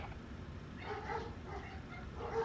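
A dog gives a few close, yipping barks and whimpery yelps in quick succession against a low background hum.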